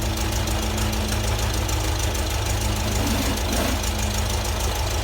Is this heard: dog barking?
no